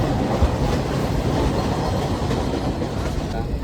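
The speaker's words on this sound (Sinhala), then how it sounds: "අපි දැන් පේරාදෙණිය කෝච්චියෙන් නැග්ගා." A passenger train departing Peradeniya station gives a continuous loud rumble with rhythmic clickety-clack of wheels on rails, heard from inside the carriage.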